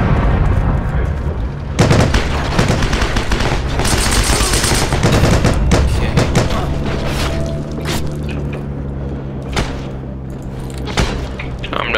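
Heavy gunfire in the Heroes & Generals video game, with dense bursts of automatic fire and loud booming explosions that continue throughout, overlapping and up close.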